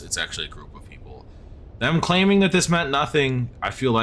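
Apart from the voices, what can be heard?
No everyday noise stands out behind the speech.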